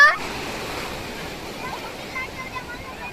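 Ocean waves wash over a beach in a soft, steady surf hiss with light wind, heard faintly and continuously without clear breaking crashes.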